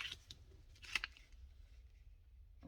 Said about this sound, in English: and then we're going to fold it